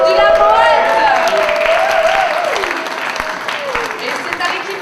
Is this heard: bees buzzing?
no